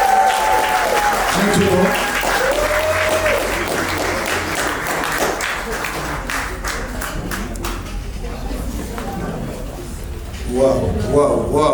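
Wedding guests clap and cheer throughout a church ceremony, with steady dense applause, scattered shouts and an officiant's voice speaking over the crowd near the start and end.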